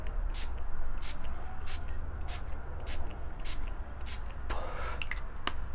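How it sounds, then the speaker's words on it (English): A BH Cosmetics setting spray mister hisses in a string of short, close puffs at a fairly even rhythm, about ten in a row, with a longer wetter burst near the end; no one speaks. "it sprays a lot of liquid on your face."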